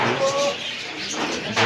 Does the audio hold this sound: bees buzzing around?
no